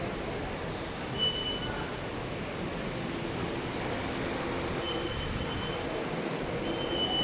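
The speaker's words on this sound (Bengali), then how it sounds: "এই মেট্রো রেল।" A metro rail train in Kuala Lumpur, Malaysia, gives a steady, loud rumble of wheels on track, with faint high squeals now and then, filling the whole stretch without any voices.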